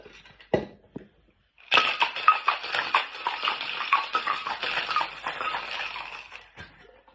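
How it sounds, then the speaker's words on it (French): Cocktail shaker with ice shaken hard for a Hemingway Special, a dense continuous rattle lasting about five seconds after a couple of brief knocks, close and fairly loud with no talking. "on va shaker"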